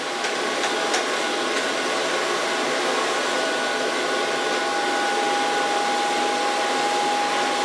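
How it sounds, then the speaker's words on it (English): A hair dryer blows steadily and loudly throughout, drying freshly cut shoulder-length bob hair with a round brush about 1.5 inches wide, a constant airy whoosh with a thin whine and no voices. "And start, of course, drying my hair."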